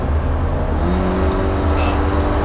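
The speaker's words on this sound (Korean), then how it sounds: "이제 드라이브 모드를 다이나믹 모드로 놓고 달려볼게요." A Volvo XC60 engine accelerates in dynamic drive mode, its rising engine note droning steadily under a constant road and cabin rumble throughout.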